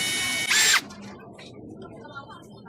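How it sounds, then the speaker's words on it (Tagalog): A power drill or driver whirs loudly in one short burst while a screw is backed out of a 24V 100Ah battery, then cuts off and leaves low room noise. "Bali, tanggal natin yung screw."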